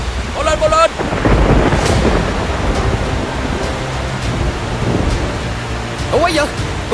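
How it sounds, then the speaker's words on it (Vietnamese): Heavy rain and rumbling thunder in a 3D animated Vietnamese folk-tale cartoon, a loud continuous roar of downpour with deep rolling booms, and brief voices calling out near the start and end. "Sao bỗng nhiên mưa to vậy nè?"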